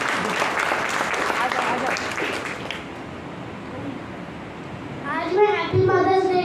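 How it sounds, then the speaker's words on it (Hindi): Applause from a church audience celebrating children on Mother's Day, a clapping wash that fades out midway before a voice and other sounds come in near the end. "जोर से ताली बजाइए आप लोग बच्चों के लिए।"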